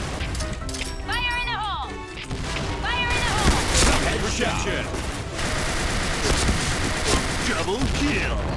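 AN-94 rifle fire in the Point Blank video game comes as bursts of rapid shots and crashes under excited talk from a player.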